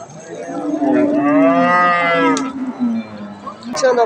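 A young, tall cow gives one long, loud, drawn-out moo at a crowded cattle market, close by, followed by a quieter second lowing and busy background murmur.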